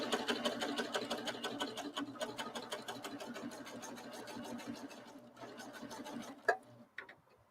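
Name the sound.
serger sewing machine stitching off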